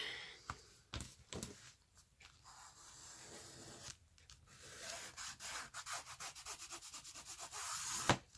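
Close, dry rubbing and scraping of paper against a surface, irregular strokes with rough swishing textures, no voices.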